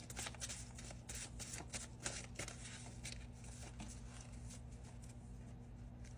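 Tarot cards being shuffled by hand, a continuous soft riffling and flicking that goes on steadily throughout, close and fairly quiet over a faint background hum.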